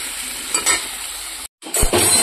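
Spiced paneer with pointed gourd stirred and sizzling in a pan, with close frying crackle, two quick stirring bursts, a brief dropout, then louder sizzling.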